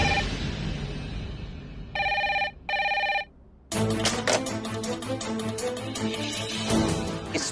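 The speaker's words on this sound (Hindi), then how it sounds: "ठाकुर, ये कॉल रिकॉर्ड करो फटाफट" Two bursts of an electronic telephone ring with strong, steady harmonic tones, then a dense music-like dramatic sting takes over for the rest, in a Hindi TV serial scene.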